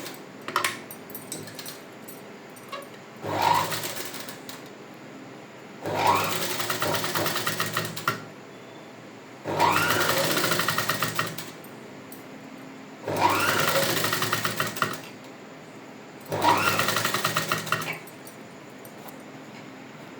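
An electric sewing machine stitches piping in five separate bursts of rapid rattling, each lasting one to two seconds, separated by quiet pauses with faint handling clicks, heard close up.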